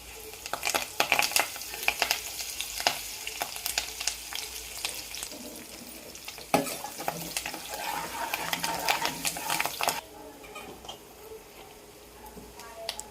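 Green chillies, turmeric and curry leaves frying in hot oil for a brinjal fry, a steady sizzle with stirring scrapes and bursts of crackle, fairly close, with a sharp change near the end as more goes into the pan.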